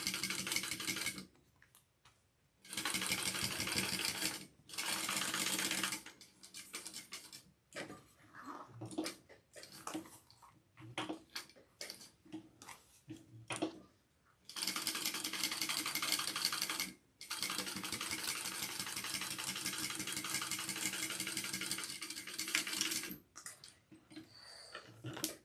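A sewing machine top stitches down each side of a fabric harlequin pouch in several bursts of steady, close whirring. The bursts are separated by short pauses, and the longest runs come near the end.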